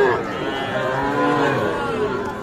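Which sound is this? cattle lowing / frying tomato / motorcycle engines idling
cattle lowing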